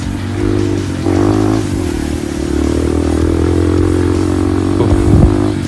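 A trail motorcycle on a night ride in Aceh revs and accelerates. Its engine makes a steady, loud, close drone that swells as the throttle opens, with some rattling clatter and no talk.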